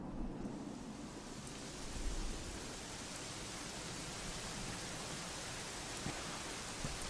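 Steady rain falling in the video game Dragon Quest XI, a dense even hiss of downpour that continues without pause from start to finish.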